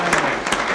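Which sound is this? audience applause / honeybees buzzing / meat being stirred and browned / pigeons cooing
audience applause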